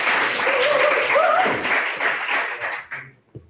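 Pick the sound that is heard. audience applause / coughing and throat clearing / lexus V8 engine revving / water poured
audience applause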